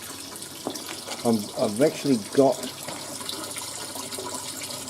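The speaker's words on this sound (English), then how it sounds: "the water splashing in there" Water from a small pump splashes steadily into a budget hydroponics system's reservoir, a continuous trickling wash while someone talks briefly over it.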